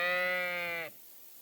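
A single sheep in Kingdom Come: Deliverance II gives one clear, close bleat that lasts just under a second and then cuts off into quiet.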